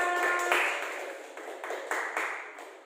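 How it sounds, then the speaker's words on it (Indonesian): A classroom group gives short, scattered clapping with a few sharp individual claps that fade quickly, fairly close and moderately loud. "Terima kasih, tepuk tangan untuk kita semua."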